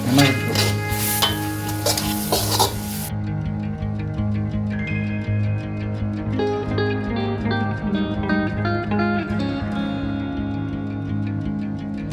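Tomato and spice masala of pepper and chili powder frying in a pan while being stirred, a loud sizzle in the first seconds settling into softer bubbling with scraping stirs, fairly close.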